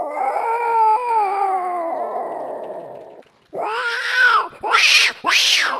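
A voice imitates an angry house cat yowling at another cat that has crept into its home: long wavering wails give way, after a short pause, to loud, sharp, rising screeches in quick bursts.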